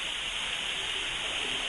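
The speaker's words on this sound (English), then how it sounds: "It's really cool how you can see the water cascade down all the little rocks" Water in the Appalachian mountains of North Carolina cascades down over many small rocks, making a steady, even rushing hiss that continues without pause and with no voices.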